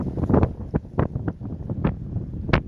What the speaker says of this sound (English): The strong gusts of wind.